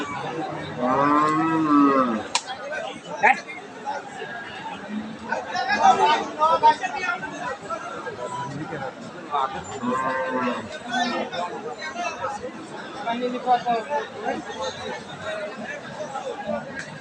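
Cattle at the Aftabganj livestock market give several loud, drawn-out moos spread across the recording, heard close amid a steady hubbub of chattering voices from the crowd.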